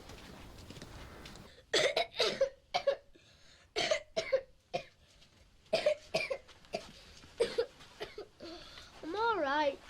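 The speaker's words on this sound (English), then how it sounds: "Daddy's coughing." Repeated harsh coughs come in bursts, close and fairly loud, with short pauses between fits, then a voice speaks at the end.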